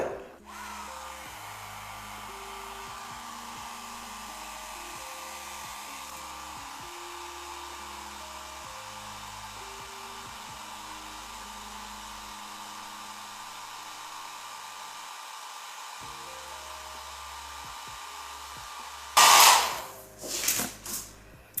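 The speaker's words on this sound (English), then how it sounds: "And I take my blow dryer on like a warm setting but low power." A blow dryer on a warm, low-power setting hums steadily and close for about twenty seconds, then cuts off with a couple of louder handling bumps at the end.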